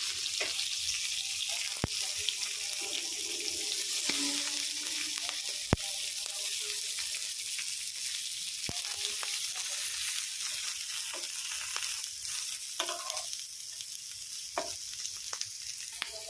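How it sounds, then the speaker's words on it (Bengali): Cabbage leaves lightly frying in oil on a hot tawa, a steady close sizzle broken by sharp clicks and utensil scrapes, with faint bits of talk in the background. "এবারে বাঁধাকপির পাতাগুলো একটু হালকা করে ভেজে দেব"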